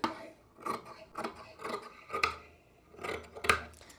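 Scissors cut through stitched fabric and buckram in a rhythmic series of close, crisp snips and rasping cuts, moderately quiet with no talk.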